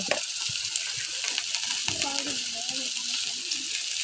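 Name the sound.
okra frying in oil with onions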